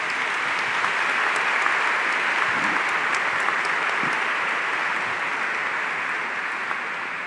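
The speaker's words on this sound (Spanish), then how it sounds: "Le damos un aplauso a la Virgen de Fátima" A cathedral congregation claps for the Virgin of Fátima, steady sustained applause filling the space and holding at an even level throughout, with no voices over it.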